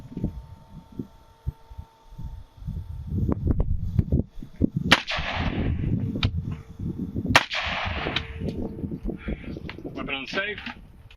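Two sharp, loud gunshots crack a few seconds apart during a beehive barrier penetration test at a firing range, with people talking and moving around between the shots.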